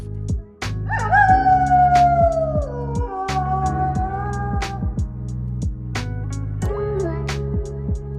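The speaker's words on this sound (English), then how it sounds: "wolf," A wolf's long howl rises and then slowly falls in pitch, with a second, shorter howl near the end, both set over a rhythmic music backing.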